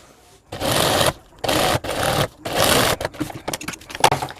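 An electric sewing machine stitches a strip for a school bag in three quick bursts of rapid, buzzing mechanical clatter, each about half a second long, close up, followed by softer handling clicks and rustles.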